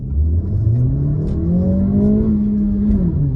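A 2023 Acura Integra accelerating hard at full throttle through a corner, its engine drone rising steadily in pitch, loud and close throughout.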